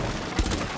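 Gunfire in Rainbow Six Siege, a quick burst of shots peaking near the middle of a short, dense stretch of game noise, close and fairly loud, no voices.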